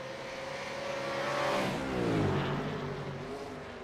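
V8 race car engines in a racing game, a roaring engine note rising then dropping in pitch as a car sweeps past, swelling to a peak before settling into a steady distant drone.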